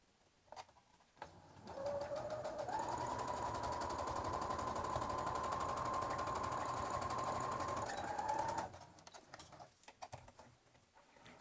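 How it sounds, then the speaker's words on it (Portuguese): A domestic sewing machine runs a straight seam along the edge of fabric for an Easter bunny's overalls, a steady close whirring drone for about seven seconds with faint handling noises before and after. "vai fazer uma costura reta bem aqui na pontinha"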